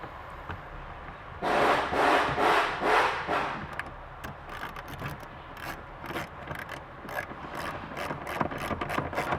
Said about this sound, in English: Just grab your torque screw.